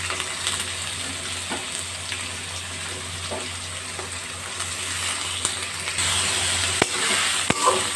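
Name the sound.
vegetables frying and stirring in pan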